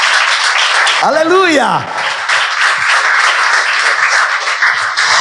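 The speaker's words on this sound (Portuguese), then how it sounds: "Você poderia aplaudir ele?" Church congregation applauding God during a sermon, broad steady clapping and cheering filling the room from start to finish, with a voice shouting over it near the start.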